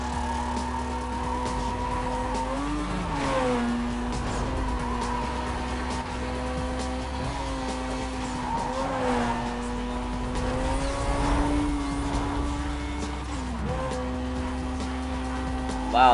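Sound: race cars racing in Need for Speed Most Wanted 2005 video game

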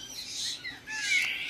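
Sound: birds chirping in a bird shop

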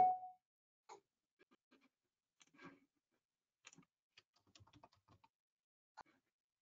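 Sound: furious computer keyboard typing

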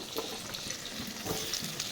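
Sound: potatoes frying in pan

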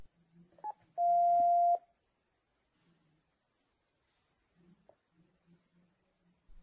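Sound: keypad beeps on Panasonic KX-TES824 phone system

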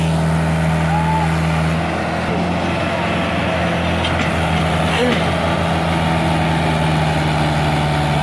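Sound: tractor engine idling while stuck in mud

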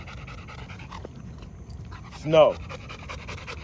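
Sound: dog panting

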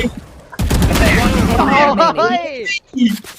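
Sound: gunfire in video game Valorant

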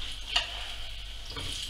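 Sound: black pudding sizzling in a frying pan

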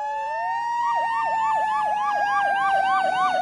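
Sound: fire truck siren

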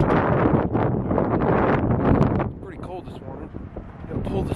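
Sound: wind blowing outside

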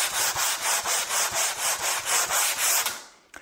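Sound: sanding old table finish with Velcro abrasive pad

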